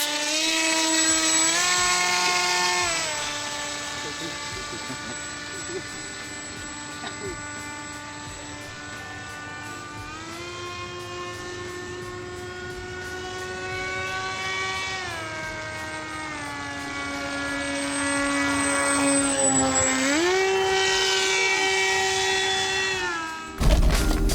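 A small propeller motor buzzes steadily overhead, its whining pitch rising and dipping as a giant motorized paper airplane flies, continuous and fairly loud.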